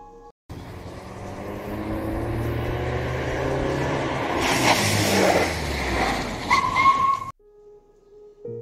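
A car engine sound effect runs for several seconds, a steady motor drone that swells and revs before cutting off abruptly, loud and close with no voices over it.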